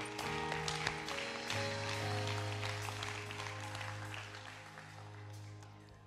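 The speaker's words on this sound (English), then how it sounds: "can you give Jesus a hand clap?" A Wednesday night Bible study congregation gives Jesus a hand clap, a soft, continuous patter of many hands under a sustained organ-like musical drone in a church hall.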